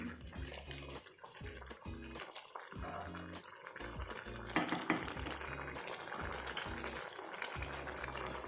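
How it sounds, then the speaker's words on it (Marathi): Water poured into a pan of brinjal-potato curry cooking for a rustic Maharashtrian wedding meal: a steady, fairly quiet splashing flow that runs throughout beneath light background music. "भाजी शिजण्यापुरतं पाणी टाकून घ्यायचं आपण"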